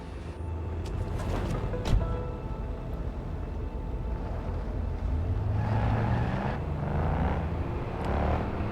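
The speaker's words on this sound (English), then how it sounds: "This car's got some thunder, I can hear it." A car engine in the Cyberpunk 2077 Phantom Liberty video game rumbles low and steadily, with slight rises in revving and a brief thump near the start, continuous and fairly close.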